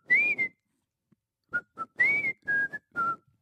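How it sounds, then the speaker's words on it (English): A man whistles a short tune up close, clear pure tones in a few separate phrases with brief silences between them. "Can you whistle? You got a good whistle?"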